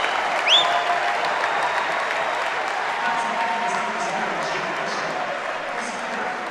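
A crowd at a college men's basketball game between Swarthmore and Ithaca applauds and cheers loudly and steadily, a dense wash of clapping and shouts with a whistle near the start.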